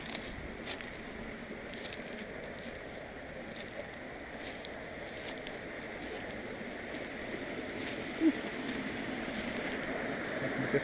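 A small stream flowing beside a walking path gives a faint, steady wash of trickling water that stays even throughout, broken only by a brief click near the end.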